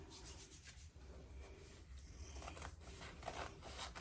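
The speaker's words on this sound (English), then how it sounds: "Again, I'm using my paper scissors." Paper scissors snip and rub steadily while trimming excess paper around a cardboard box covered to make a boho junk journal cover, with close, faint, continuous cutting and scraping texture and no voices.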